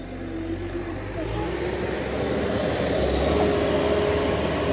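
A farm tractor engine running during a manure-dumping job, a steady low droning rumble that holds throughout at a fairly loud level, with a voice faintly audible under it.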